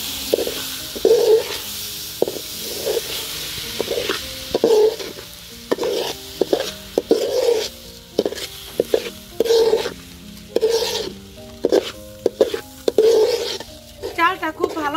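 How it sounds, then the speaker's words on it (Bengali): Polao rice is stir-fried in a pan for hilsa polao, a spatula scraping and tapping the grains in a steady repeated rhythm over a soft, continuous sizzle, close and fairly loud. "চালটা খুব ভালোভাবে ভেজে নিব।"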